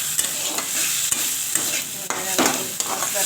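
A spice paste of tomato, ginger, garlic and onion fries in a pan, a constant loud sizzle broken by repeated sharp scrapes and taps of a spoon as it is stirred.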